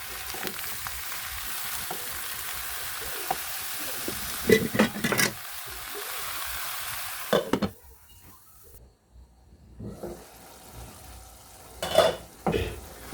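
Bottle gourd with small shrimp frying in a pan, stirred by a utensil that scrapes and clatters against the metal over a steady sizzle, which drops away near the end before a few last knocks.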